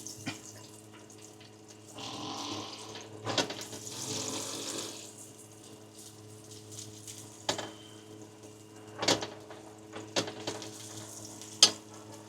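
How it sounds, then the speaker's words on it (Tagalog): Sliced onion and a whole head of garlic fry gently in a pan, a soft low sizzle broken by occasional clinks and scrapes of stirring, with no talking. "unahin natin yung sibuyas para medyo matoast yung sibuyas ay yung bawang isang buong bawang"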